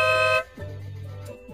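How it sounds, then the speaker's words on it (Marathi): A car horn honks twice: a short, loud, bright blast, then a longer, steadier toot after a brief gap, with nothing else around it. "गाडीचा हॉर्न वाजतोय."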